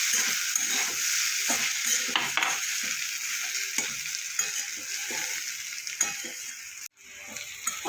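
Potatoes fry in a pan with Kashmiri chilli powder for a mourola fish chorchori, a continuous close sizzle broken by repeated scraping strokes of a spatula as they are stirred; no one speaks.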